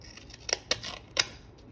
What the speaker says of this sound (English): make sure you've got Teflon coated scissors